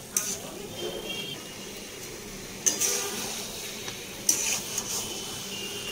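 Chicken sautéing in a pan with whole garlic cloves and capsicum: a steady close sizzle with a few sharp scraping clinks of a utensil against the pan.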